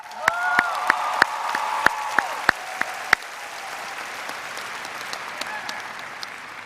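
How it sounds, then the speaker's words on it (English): Applause from a graduation ceremony audience for the class of 2015, a few loud nearby claps standing out over broad crowd clapping that fades gradually over several seconds. "Give yourself a round of applause."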